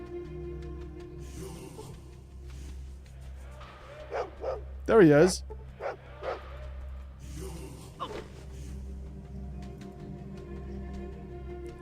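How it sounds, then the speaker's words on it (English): A dog in the Fallout 2 game gives a short burst of yips and barks in the middle, with someone talking before and after. "I hope that's not the dog"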